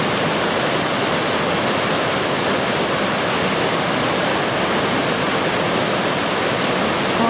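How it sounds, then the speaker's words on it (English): Powerful water roars through a salmon ladder beside the Thames weir, a loud, steady broadband rush with no breaks and no voices. "Look at the force of that water in there."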